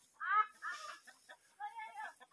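Chickens cluck in a rural village yard, a few short, fairly faint bursts of clucking with quiet gaps between them.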